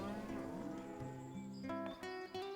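Cattle lowing in the medieval survival game Life is Feudal, several long, drawn-out moos overlapping and following one another, fairly close and moderately loud, with no talking.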